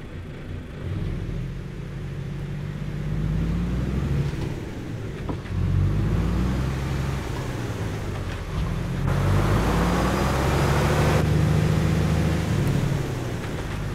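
An Iveco S-Way truck hauling a Kögel trailer in a realistic driving game pulls away, its engine giving a steady, low, close rumble that rises and shifts in pitch through the gears.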